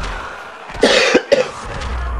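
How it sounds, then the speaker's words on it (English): Two sharp coughs in quick succession, close and loud, over a quiet room background. "I feel a cough coming on, so we're gonna have to let one go right now"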